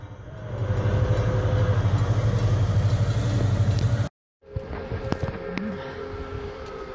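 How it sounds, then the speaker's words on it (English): Diesel locomotive number 310 hauling a train north of Owosso gives a loud, steady mechanical rumble that cuts off abruptly, then returns quieter with a lingering hum and scattered clanks. "You can hear the train coming."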